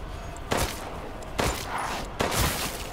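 Bursts of automatic gunfire in a zombie video game ring out in three separate volleys, loud and sharp with short pauses between them.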